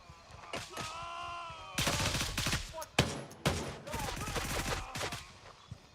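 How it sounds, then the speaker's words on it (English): Explosive bursts and rapid gunfire rattle through a Gray Zone Warfare firefight as grenades are launched, with loud broadband blasts around two, three and three-and-a-half seconds and a voice talking over the action. "Everybody's launching grenades like it's the 4th of July"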